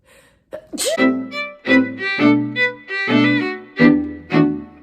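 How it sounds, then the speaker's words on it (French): A single sharp sneeze close up near the start, followed by a person speaking. "vais éternuer."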